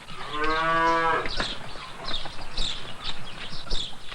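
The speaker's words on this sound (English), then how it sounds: "The cows must be taken to pasture twice a day, and then down to be watered." A single long cow moo sounds up close on an Italian farm by Lake Bracciano, followed by a bustle of shuffling, hooves and farmyard noise.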